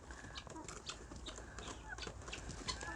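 Backyard hens, some of them molting, cluck softly and intermittently at a moderate distance, with faint scattered calls over a low, steady outdoor background and no talking.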